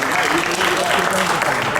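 Dense, steady audience applause fills a club presentation hall, loud and close throughout, with crowd voices mixed into the clapping.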